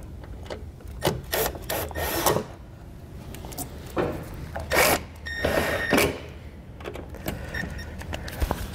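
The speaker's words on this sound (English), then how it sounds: "we'll take our screwdriver, and we'll snug those screws up" Screwdriver snugging up screws to mount a portable flat tow brake system's battery charger in a 2018 Chevrolet, a series of irregular close scraping and ratcheting bursts with short pauses, no talk.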